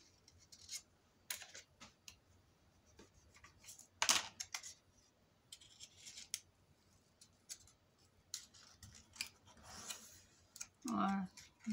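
Paper for a handmade mini album being cut and handled close up, with scattered snips and crisp clicks spread across the clip, one sharp louder cut in the middle, amid light rustling and a voice speaking softly.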